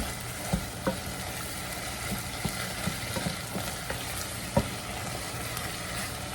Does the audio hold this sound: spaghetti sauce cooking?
yes